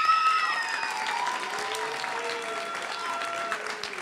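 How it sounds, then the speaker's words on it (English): An audience at a Poetry Out Loud competition gives sustained applause, a steady wash of clapping with a few whoops and tonal cheers riding above it. "I would like to hear a loud round of applause for"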